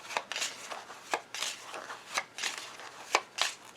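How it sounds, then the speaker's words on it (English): Small Lenormand cards being shuffled by hand, a series of soft, quick papery riffles and taps repeating in bursts, close and quiet with no talking. "Let me shuffle the little Lenormand cards as well"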